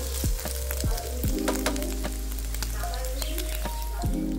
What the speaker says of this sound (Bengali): তো খুব কড়া করে ভাজে না, হালকা হালকা একটু লাল হবে, লালচে করে ভেজে নেওয়া আর কি।